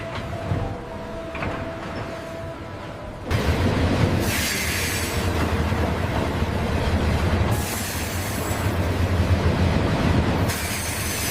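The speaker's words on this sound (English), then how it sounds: "Freight trains carry containers across long distances." A freight train hauling shipping containers rolls past with a steady, heavy rumble and clatter of wagons. The sound swells louder partway through, with faint wheel squeal and rattling over the top.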